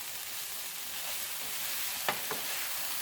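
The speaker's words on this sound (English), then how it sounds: "So I'm just going to stir these, get them good and brown" Bell peppers and other food sizzle steadily in a hot pan while browning, broken by two quick scrapes of a spoon stirring them, with no voices.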